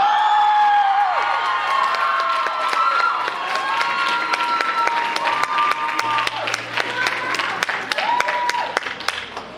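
Audience at an awards ceremony applauding the People's Choice winners: sustained loud clapping and cheering from a crowd, with whoops and raised voices over the top, while a voice speaks through it.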